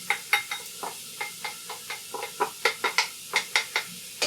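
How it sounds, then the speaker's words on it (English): Ground meat tossed into a pan of softened onions while cooking Tex-Mex pasta soup, a steady sizzle with rhythmic scraping and stirring knocks, close and fairly quiet. "I'm going to toss in the ground meat."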